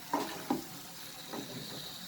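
Eggplant bharta cooks in mustard oil in a pan, giving a faint, steady sizzle broken by a few soft spatula scrapes and stirs.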